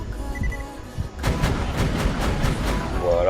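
A rocket launcher fires a rapid series of sharp, evenly spaced blasts in the shooter game Borderlands The Pre-Sequel, with the firing starting after a quieter first second and continuing to the end.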